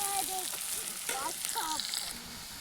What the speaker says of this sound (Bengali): তো পেঁয়াজগুলো প্রথমে লাল লাল করে ভাজি নেব